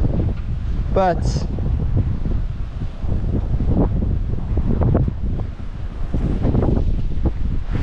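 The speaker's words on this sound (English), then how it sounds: "It's windy." Wind roars across the microphone on an outdoor walk at Jonathan Dickinson State Park, a constant low rumble under people talking throughout.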